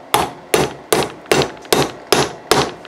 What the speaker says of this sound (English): we're just gonna hammer our turbo socket on